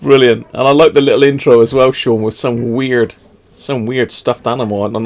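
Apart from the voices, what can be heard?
No everyday noise stands out behind the speech.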